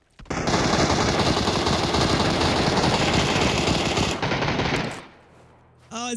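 Sustained automatic gunfire in the video game PUBG rattles loudly in a dense continuous burst for several seconds, then cuts off, leaving a brief quieter stretch before a final short burst.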